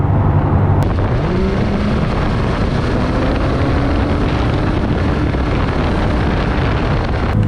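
A McLaren 570S accelerates hard, a loud, continuous roar with a rising engine note early on, heavy wind and road noise blending into a dense, sustained wash without speech.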